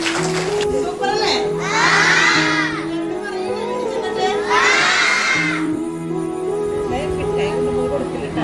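Cheering crowd of children at a school movie screening, shouting and whooping in two loud surges with continuous voices and crowd noise throughout.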